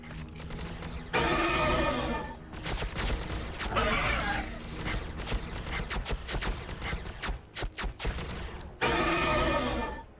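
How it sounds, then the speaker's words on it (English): Plasma guns fire in the video game Warhammer 40,000 Battlesector as loud bursts of crackling, roaring blasts in several volleys, with clicks and impacts between them over about ten seconds. "So let's use multi-melta. And then we'll just shoot all the plasma guns."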